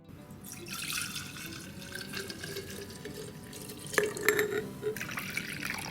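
Infused orange liqueur drips and trickles from strained orange peels, a soft continuous liquid patter with sharper drips clustering toward the end, close and quiet with no talking.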